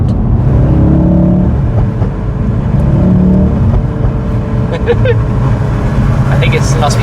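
A car engine revs and accelerates on a road near roundabouts, loud and close throughout, with people in the car talking over it.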